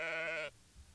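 A single sheep on the Isle of Skye, Scotland, lets out one loud, close, nasal bleat that breaks off sharply after half a second, leaving quiet outdoor air.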